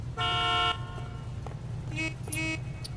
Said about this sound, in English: Bad day to honk at me, my friend.